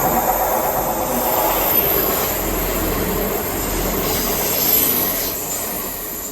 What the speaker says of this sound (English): On the train to Hampton Court where we finished yesterday.